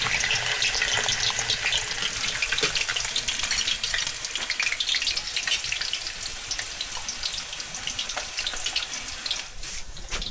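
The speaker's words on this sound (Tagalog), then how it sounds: "Piprito muna tayo guys ng patatas." Potatoes fry in hot cooking oil with a steady, dense crackling sizzle that holds at close range for the whole stretch, without any voices.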